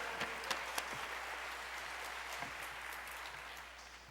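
A congregation applauds to welcome a guest pastor to the pulpit at a church revival service, a steady wash of clapping from many hands at moderate distance, fading slightly toward the end.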